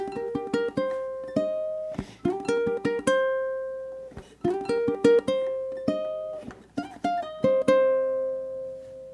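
A ukulele picks out a bluesy melody with plucked notes and occasional strummed chords, played alone at moderate volume with a loose, steady rhythm.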